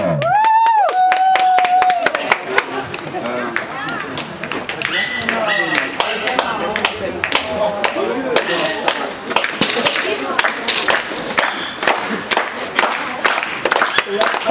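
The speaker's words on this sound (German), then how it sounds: "und jetzt bitte ich darum, alle zu klatschen" An audience claps for Bella in her final round: a burst of scattered hand claps that quickly settles into a dense, sustained round of applause, preceded briefly by a sung or spoken voice.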